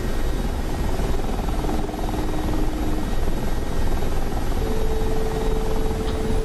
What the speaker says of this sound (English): Welcome to my helicopter.